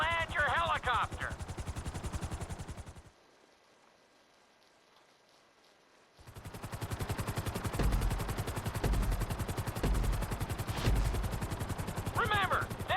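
Helicopter rotor and engine drone in Grand Theft Auto V, loud and steady, cutting out for a few seconds of near silence before returning, with short game voice sounds at the start and end.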